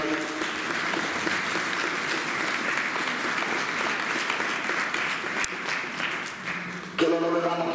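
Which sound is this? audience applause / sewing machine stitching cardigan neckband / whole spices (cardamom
audience applause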